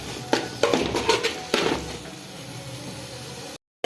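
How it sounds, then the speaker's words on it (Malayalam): Cooked biryani rice being stirred into a tomato mixture in a pot with a metal spoon, giving several sharp clinks and scrapes early on before fading into quieter shuffling, with no talk. "കുറേശ്ശെ കുറേശ്ശെ ഇതിലേക്കിട്ട് ഇളക്കി ഇളക്കി എടുക്കണം"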